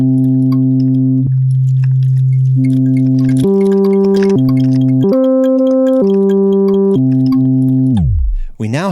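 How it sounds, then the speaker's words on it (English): A CHOMPI TAPE sampler loop layers several presets and effects into a steady, electronic synth-like tone that steps between sustained pitches, then ends in a falling, swooping glide. "we now have a sound that combines elements from multiple presets and effects"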